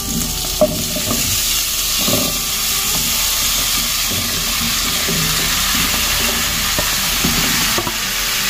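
Steady sizzling of squash frying in a pan, with intermittent scraping and stirring clatter throughout; continuous and fairly loud, no voices.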